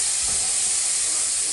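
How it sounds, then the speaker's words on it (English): Chicken pieces sizzle as they go back into a hot pan while making saffron chicken and orzo, a loud steady hiss with a brief thud of the meat landing at the start. "we're going to add our chicken back into the pan"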